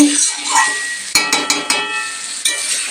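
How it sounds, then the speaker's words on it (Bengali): Mutton stir-fried in a pan with spiced masala, a quiet sizzle broken by several sharp scrapes and knocks of a metal spatula against the pan. "তো এবার আমি মটনগুলো দিয়ে নিচ্ছি ভালো করে এবার কষিয়ে নেব"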